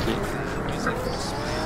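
A fast car in GTA 5 Online races along with roaring engine and tire squeal, loud and continuous for a brief moment.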